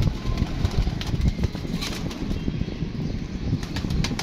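A female pigeon being handled flaps its wings in short, rustling bursts, close by, over a low background rumble.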